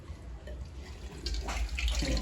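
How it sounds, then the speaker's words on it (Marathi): Water from a fish tank pours out through a hand-pumped siphon hose, a steady running splash that grows louder and fuller partway through, with no voices. "अशा प्रकारे टँकचं पाणी येते."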